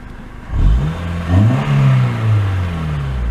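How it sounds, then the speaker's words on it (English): A 2002 Honda Civic Si engine revs from idle in a few quick throttle blips, rising and falling close by, then settles back to a steady idle with no talking. "I'll step inside and give it a rev"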